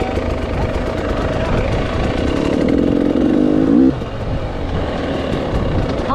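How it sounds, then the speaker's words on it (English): Dirt motorcycles in a prospectors race, a loud close engine drone with a rising revving pass that peaks and cuts off sharply, then a steadier engine rumble continues. "How many bikes have passed, roughly?"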